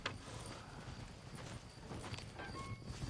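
Horse hooves clip-clopping in Red Dead Redemption, a faint, steady walking rhythm of hoof strikes under low ambient noise.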